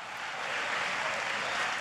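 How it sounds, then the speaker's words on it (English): A church audience at an evangelist's sermon clapping their hands together, a steady, dense wash of applause holding level throughout without pause. "let's clap our hands and give women the credit for having the baby"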